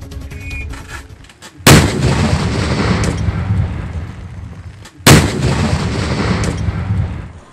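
Two heavy explosive detonations boom in a forest area near Murugamangalam, Urapakkam, as seized munitions are disposed of, each a sharp blast with a long rolling rumble, spaced a few seconds apart.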